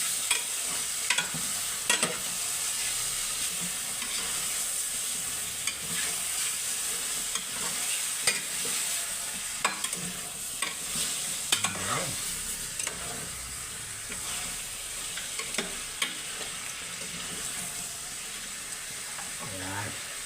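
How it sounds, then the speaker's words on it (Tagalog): Chicken stirred and frying in a pan for tinola gives a steady soft sizzle and hiss with repeated scraping and clinking of the utensil against the pan, fairly quiet and continuous throughout. "So, manapos po natin ilagay yung chicken. Imekos-mekos po natin siya."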